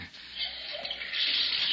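Water running from a tap into a bathtub, a steady close hiss and rush that swells louder partway through, with no voices.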